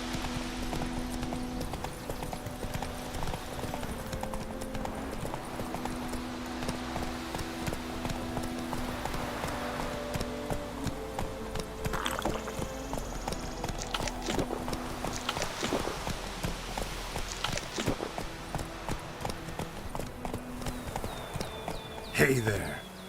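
Roach the horse's hooves clop rhythmically in The Witcher 3, running steadily under in-game dialogue and background game sounds.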